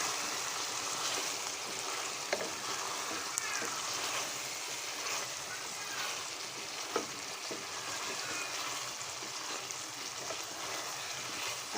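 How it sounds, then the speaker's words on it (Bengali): Hog plum (amra) pickle sizzles steadily in a pan as it is stirred, a continuous frying hiss with occasional scrapes and knocks from the utensil. The sound is close and fairly loud, with no speech. "এখন একটু নাড়াচাড়া দেব।"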